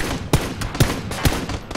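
Gunfire in a video game shooter, with three loud, sharp shots spaced about half a second apart over constant background noise from the game.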